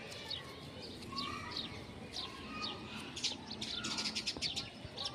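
A tame pigeon perched on a person's hand while eating wheat, with bird chirps and calls scattered through steady outdoor ambience and soft cooing underneath, moderately close and fairly faint.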